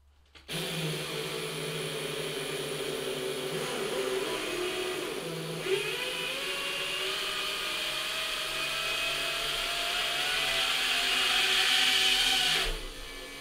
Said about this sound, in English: we heard that the back ones were spinning, and then they basically got grooved in and they started being more quiet